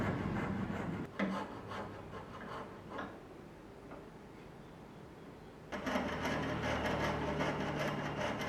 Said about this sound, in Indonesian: lalu kita potong sesuai sketsa.